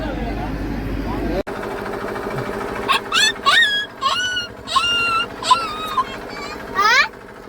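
A voice imitates a dog, giving a series of short, high yelps and whimpers in quick bursts.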